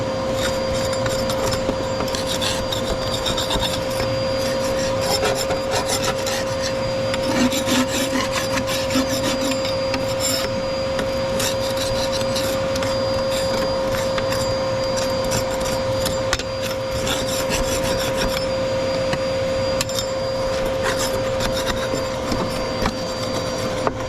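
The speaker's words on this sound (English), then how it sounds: "The sides a bit of a scrape." Metal tool scraping the sides of a Rayburn cooker with boiler during sweeping and cleaning, a steady rasping scrape that runs continuously and close, over a constant hum.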